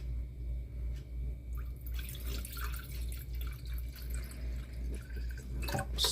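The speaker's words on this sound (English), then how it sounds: "Get some water in here." Water trickles and splashes into a Disney Tinkerbell snow globe, close-up, over a steady low hum, growing louder and busier partway through.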